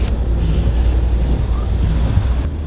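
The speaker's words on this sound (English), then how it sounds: "the rain is pounding us right now, and no signs of letting up" Heavy rain and strong wind during Hurricane Harvey, beside a road where floodwater is overflowing. A steady, dense roar of wind and rain fills the whole stretch, loud and constant, with gusty low rumble.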